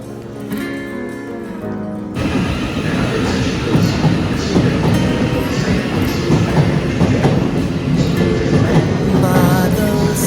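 Loud, continuous rumble and clatter of a UK National Rail train running on rails, heard from inside, with rhythmic wheel noise and a faint background voice.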